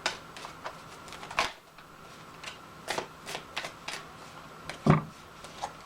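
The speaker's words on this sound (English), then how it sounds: "I should just start fast forwarding through the shuffling." Tarot cards are shuffled by hand in quick, papery riffles and bridges, coming in irregular bursts with short quiet gaps between them and one sharper snap near the end, heard close and alone.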